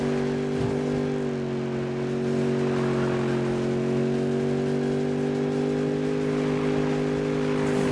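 Engine revving of a racing car in Need for Speed (2015), a steady loud drone with held harmonic tones that swell slightly, running continuously throughout with no talk.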